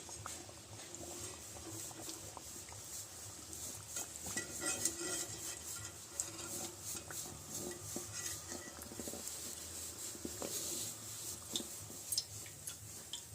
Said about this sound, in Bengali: বিস্কুটগুলো খুব সুন্দরভাবে ভাজা হয়ে গেছে এবার আমি তুলে নিচ্ছি